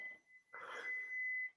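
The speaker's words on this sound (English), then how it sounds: "there's something beeping at my house too" An electronic alarm-like beep sounds in a house, a faint, thin steady tone that rises after a brief pause and holds for about a second before cutting off.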